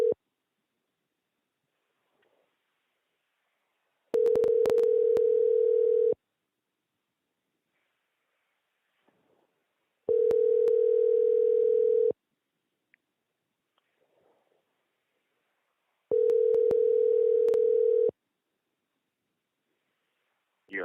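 Telephone ringback tones on an unanswered call: three long, clean steady tones, each about two seconds, separated by roughly four seconds of silence, loud and alone.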